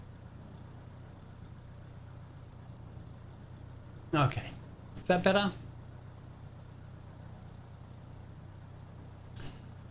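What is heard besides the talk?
aircraft engine sounds in Microsoft Flight Simulator 2020 video game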